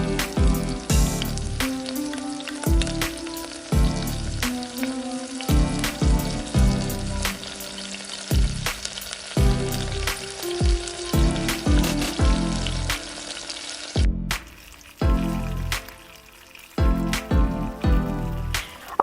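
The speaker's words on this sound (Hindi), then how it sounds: "अब इसमें हम डालेंगे अपना मैरिनेटेड चिकन और उसको ब्राउन होने तक, गोल्डन होने तक तल लेंगे" Marinated chicken frying in melted butter for lemon pepper chicken produces a continuous, fairly loud sizzle, broken by frequent sharp knocks and clatters from the pan, with no voices.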